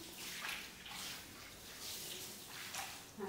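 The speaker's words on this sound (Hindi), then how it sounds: "यहाँ पे अभी हॉल धोने का काम चल रहा है" Water splashing and washing across an indoor hall floor during cleaning, a steady broadband wash with a few stronger surges, fairly close and continuous throughout.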